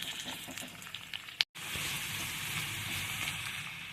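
Guava pieces and green chillies frying in a pan for a homemade pickle, a steady close sizzle that breaks off for a moment, then carries on evenly and loud.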